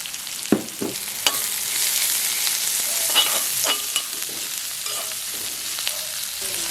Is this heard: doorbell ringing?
no